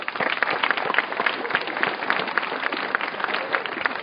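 A crowd gives dense, steady applause at a canoe blessing during the opening ceremony of a paddling event, with many hands clapping continuously and evenly and no breaks.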